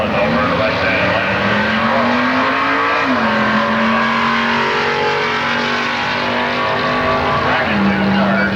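A 1985 Ford Ranger pickup powered by a 351 V8 drag racing at a strip, its engine screaming loud and sustained as it accelerates, pitch climbing then dropping at each gear shift.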